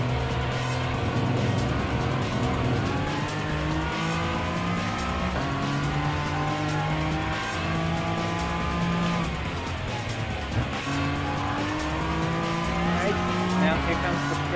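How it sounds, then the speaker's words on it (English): A TVR Tuscan Speed 6 in Gran Turismo Sport corners under handbrake, its engine droning and shifting pitch through gear changes with tyre squeal running underneath, continuous and fairly loud. "here's a little handbrake to be able to go on and take some smooth turns"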